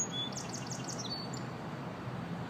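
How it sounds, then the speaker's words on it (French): Outdoors, a few faint, quick bird chirps flutter near the start over a soft bed of background hiss, fading after about a second. "écouter les oiseaux. C'est merveilleux."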